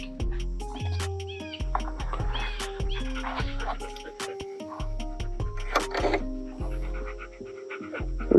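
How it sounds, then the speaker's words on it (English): Dog panting in a steady, quick rhythm close by, mixed with intermittent chirps and clucks in the background throughout. "What you breathing for, dog?"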